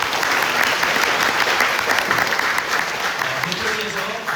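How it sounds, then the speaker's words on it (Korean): Steady, dense applause from an audience at a residents' briefing on a redevelopment project in Cheonho-dong, continuing strongly for several seconds with faint voices beneath. "추진위원님들께 큰 박수 부탁드리겠습니다"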